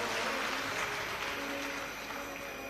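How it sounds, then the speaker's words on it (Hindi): Audience clapping fills a live Shiv Mahapuran katha hall, a dense, steady wash of applause at moderate volume that holds for nearly three seconds and eases slightly toward the end. "एक बार छोटू भाई जी के लिए भी बहुत जोरदार ताली बजाकर साधुवाद"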